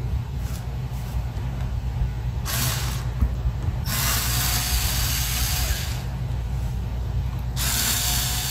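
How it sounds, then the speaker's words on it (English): A cordless screwdriver backs hard drive screws out of an ASUS Transformer Flip TP500L laptop in several short whirring bursts, with a steady mechanical hum underneath, close and fairly quiet, no talking. "For that, I like to use my cordless screwdriver."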